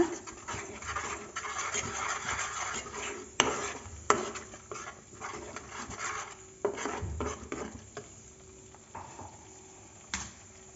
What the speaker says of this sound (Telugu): ఇప్పుడు ఇది బాగా కలుపుకోవాలన్నమాట